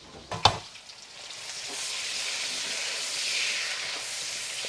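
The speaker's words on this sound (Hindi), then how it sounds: "यहाँ पे ऑयल गर्म हुआ है तो इसमें मैं एक ऑनियन को फ्राई करती हूँ।" Onion frying in hot oil in a pot, a steady close sizzle that swells after a couple of sharp knocks at the start and then hisses on evenly.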